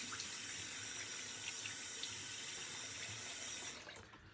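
Tap water runs steadily into a sink as a face is wetted before shaving, a constant close rushing stream that fades out at the end.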